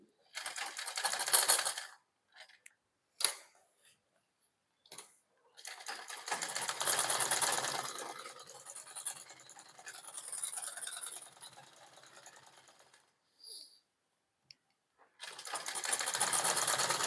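A sewing machine stitching a shirt collar in several separate bursts of rapid mechanical whirring, the longest running several seconds, with short pauses and small clicks between runs.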